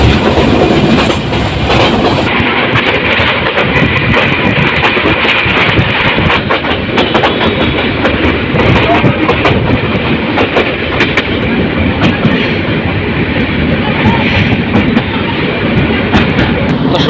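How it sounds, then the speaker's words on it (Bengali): The Surma Mail train runs on the Bhairab to Narsingdi line, heard from on board as a loud, continuous rolling roar with rhythmic clickety-clack of wheels over rail joints and no talk. "সুরমা মেল ট্রেনটি অবশেষে নরসিংদী রেল স্টেশনে এসে যাত্রা বিরতি দিয়েছে।"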